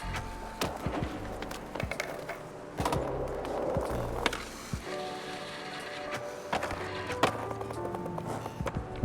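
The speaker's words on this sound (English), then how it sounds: "Struggling to get another tail slide." Skateboard wheels and deck in the video game Skate during a bowl session, grinding and scraping in a tail slide, with intermittent clacks and knocks over a steady rolling rumble.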